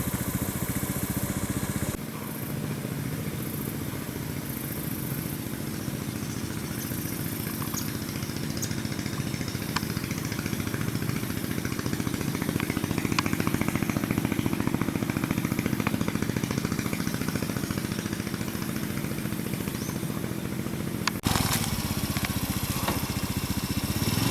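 A motorcycle engine idles with a steady, close, even chug that keeps going for over twenty seconds and briefly shifts in tone near the end.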